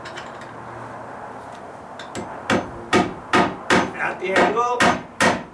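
A hammer drives nails through a metal joist hanger tab into wooden deck framing, about eight sharp, close strikes in an uneven rhythm after a quiet start, with a brief spoken remark.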